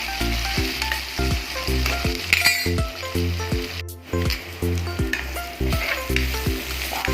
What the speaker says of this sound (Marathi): कांदा लसूण त्यामध्ये टाकून घेतला आहे घेऊया आपण फोडणीमध्ये चवीचं मीठ टाकून घेऊया फोडणी परतून घेऊया